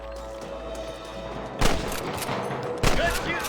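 Gunfire during a shootout in the video game Red Dead Redemption: a steady din of battle with two sharp, loud shot bursts standing out over the background, with faint game voices.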